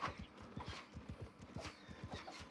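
Mount & Blade II: Bannerlord game audio of a mount moving at a steady walk, with regular soft clip-clop hoof thuds repeating close by and a faint animal call mixed in.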